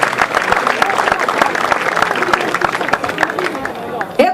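Lively applause at an Italian literary prize ceremony for participating students, dense close clapping mixed with crowd chatter and babble throughout, ending with a brief louder rustle near the close.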